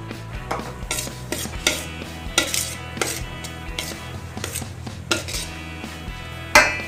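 Little millet puttu being mixed with jaggery syrup in a pot, with repeated clinks and scrapes of a spoon against the vessel and irregular clattering strokes, fairly close, and no voices.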